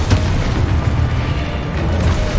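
A Confringo fire spell explodes in the Hogwarts Legacy video game, a loud, sustained booming blast that fills the moment with rumbling low-end energy and no voices.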